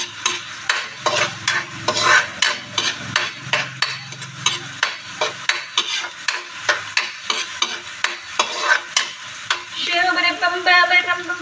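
Garlic and onion stir-fry in a pan, with a loud sizzle under repeated rhythmic scrapes and knocks of a spatula, about two strokes per second, building into a denser sizzle at the end.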